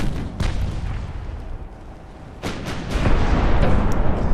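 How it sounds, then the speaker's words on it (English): Main gun salvo from a warship in the naval game Ultimate Admiral: Dreadnoughts, heavy booming blasts with a rumbling tail, louder bursts around the middle and end, loud and close with no voices. "That was a good salvo from the main guns."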